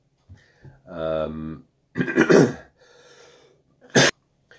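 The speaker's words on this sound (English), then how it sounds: "Apologies, one protracted coughing fit later." A harsh, protracted coughing fit with several explosive bursts, a strained throat-clearing sound and gasping breaths between them, close to the listener.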